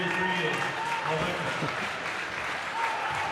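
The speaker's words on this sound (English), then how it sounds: "Alpha comes off to a nice hand from the crowd" A crowd at a boys' high school basketball tournament quarterfinal gives steady applause as a player leaves the game, with a commentator's voice over it.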